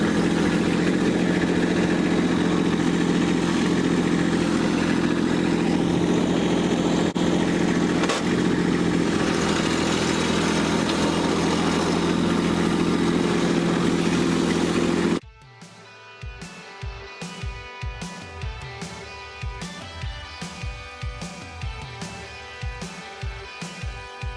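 Kubota B2601 compact tractor loader engine running while clearing snow on a gravel driveway, a loud steady diesel drone for about fifteen seconds, then a quieter idle with rhythmic mechanical pulsing, no talk.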